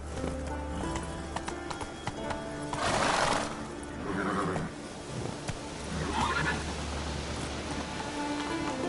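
A horse in a video game gallops with steady clip-clop hoofbeats and lets out loud whinnies around the middle and again later, with a low rumbling background throughout.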